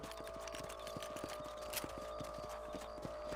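Horse hooves clip-clop at a steady riding gait in the Red Dead Redemption video game, a regular string of soft thuds over a constant low background hum, with no talking.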